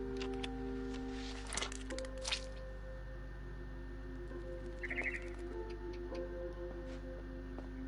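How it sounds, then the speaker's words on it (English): A barn swallow in the video game What Remains of Edith Finch gives a few short chirps near a nest outside a window, faint over steady ambient hum and soft ticking. "Then I heard chirping outside my window. It was a barn swallow going back to her nest."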